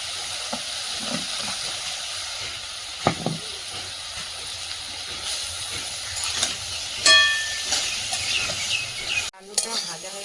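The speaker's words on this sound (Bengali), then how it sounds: "হ্যাঁ, এটা উচ্ছে ভাজা" Bitter gourd frying in oil with turmeric, a steady close sizzle and hiss with occasional utensil knocks, a brief louder surge partway through and a sharp clunk near the end, with no speech.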